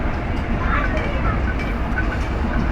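An old passenger train, the KA Mutiara Timur, rolls along the rails with a steady low rumble and faint rhythmic rattling heard from inside the carriage, continuous throughout.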